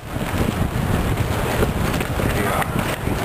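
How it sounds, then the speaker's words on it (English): Wind blows hard on a windy outdoor day, a continuous rushing roar buffeting the microphone for the whole stretch. "How windy it is today."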